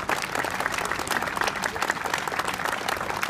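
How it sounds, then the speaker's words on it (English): Crowd applause at an outdoor Windsor Remembrance ceremony: dense, steady clapping from many hands, loud and sustained without a break. "they deserve that round of applause"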